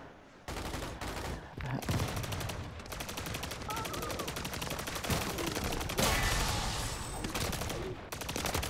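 Sustained, loud automatic gunfire from a shooter video game, dense rapid bursts running almost without a break, with a voice briefly audible underneath.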